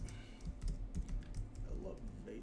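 A keyboard shortcut is pressed and a mouse is clicked on a computer during a mapping lab exercise. A few soft, close key taps and a click sit over a low, steady room hum.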